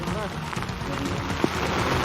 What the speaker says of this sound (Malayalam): ഇപ്പോൾ മഴ കനത്തു പെയ്യുകയാണ്